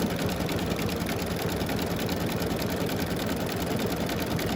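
A machine embroidery unit stitches a Tabbytha eyeglass case with its lining piece, a steady, fast mechanical whirring and rapid needle chatter running continuously at an even level throughout.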